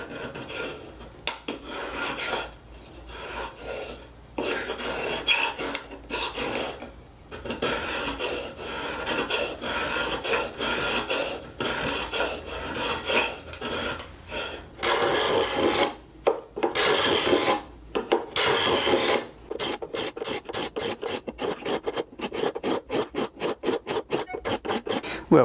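A homemade scratch stock is dragged back and forth to scrape a molding profile into wood, giving repeated rasping strokes. Slower, irregular scrapes come first, then quicken into a fast, even run of short, sharp strokes close by.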